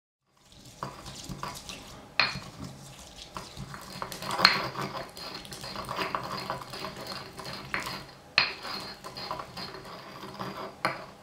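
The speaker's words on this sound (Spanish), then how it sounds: "En un mortero ponemos 3 ajos morados, muy picaditos, con sal y aceite de oliva virgen extra" Minced purple garlic cloves ground with salt and extra virgin olive oil in a kitchen mortar: soft, irregular scraping and grinding of the pestle with occasional sharper knocks, close but quiet, with no talking.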